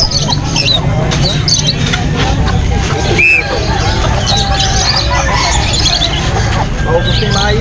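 Crowded pet market in Angeles City with busy crowd babble and traffic noise, scattered bird chirps and squawks rising through the hubbub, plus one clear brief whistle-like call midway.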